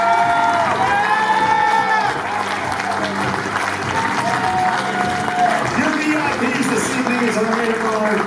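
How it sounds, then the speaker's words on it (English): Wedding reception audience applauding two guests being introduced, a dense, steady wash of clapping with some cheering, loud and continuous under a voice talking. "Please clap your hands for MC and Jeremy"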